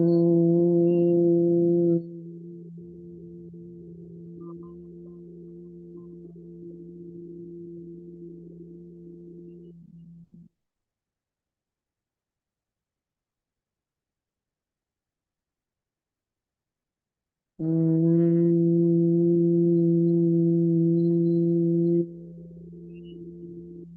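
A sustained hummed tone from a single voice during a somatic movement practice, a steady low drone held for about ten seconds, then silence, then the hum returning strongly for the last several seconds.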